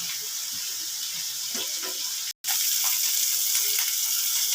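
Tilapia pieces for fish tandoori fry in hot oil in a pan, giving a steady, dense sizzling hiss close by that cuts out for a moment and resumes.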